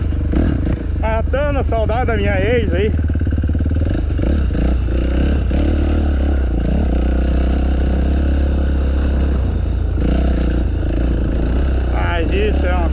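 A dirt bike motorcycle rides a trail, its engine droning loud and close throughout, with brief revving and clattering along the way. Someone talks over the engine near the start.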